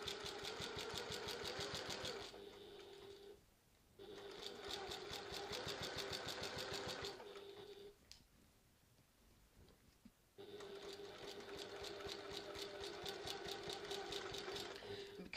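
Sewing machine stitching the lining of a city tote bag, running in three steady bursts with a brief pause and a longer quiet gap between them, close and fairly loud.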